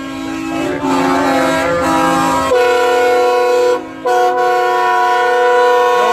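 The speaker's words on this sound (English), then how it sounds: "It's the truck rally, Jenny. The truck rally for the oil field." Loud truck air horn blasts at an oil field truck rally, one sustained multi-tone blare after another with brief breaks, heavy vehicles rumbling past close by.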